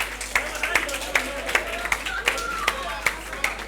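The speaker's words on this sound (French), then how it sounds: "On applaudit très très fort, s'il vous plaît." An audience at a high school contest claps in a steady rhythm of distinct, fairly close hand claps, roughly two or three per second, with light voices underneath.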